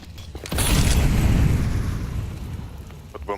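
An incendiary grenade going off in Counter-Strike, a sudden loud whooshing burst that swells into a roaring burn and fades slowly over a few seconds, with no talk over it.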